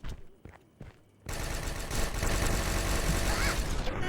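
Two guns firing together in a video game, a dense sustained burst of gunfire kicking in after a second of sparse clicks and steps, loud and continuous to the end.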